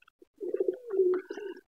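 Pigeons kept as pets give a soft, low cooing call, one rolling phrase close by and fairly quiet, with brief faint clicks before it and silence around.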